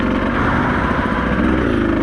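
A Beta 200RR two-stroke enduro motorcycle riding a trail, its engine droning steadily and loudly up close, with the pitch wavering slightly as the throttle is held on.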